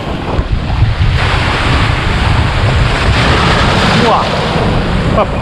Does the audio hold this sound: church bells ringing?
no